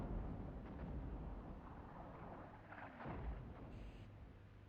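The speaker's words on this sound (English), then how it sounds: "Iron bomb, cluster bomb." Iron bombs and cluster bombs going off in a Cold War real-time strategy game, a dense rumbling barrage of blasts that swells twice, with no voices over it.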